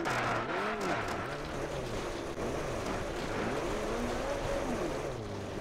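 Rally car from the Richard Burns Rally game driving on gravel, a steady engine drone rising and falling through gear changes under a constant wash of road and tyre noise, with no talking.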